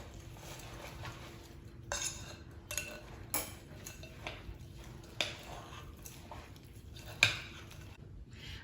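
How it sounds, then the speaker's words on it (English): Oatmeal cup batter stirred in a bowl with a utensil: soft scraping and scattered light clinks against the bowl, fairly quiet, with one sharper clink near the end and no talking. "now I'm just gonna kind of stir this all around"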